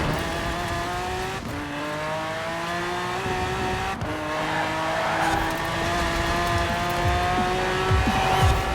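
A Bugatti Veyron in Forza Horizon 4 riding along a wall in a dirt race: a loud, sustained engine drone with gear shifts that drop the pitch and then climb again, plus brief tire scrubs, close and continuous.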